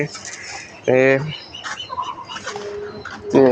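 A young egg-laying hen gives short clucks and a loud burst of vocalizing, close by, with quieter bird sounds between calls around a backyard flock.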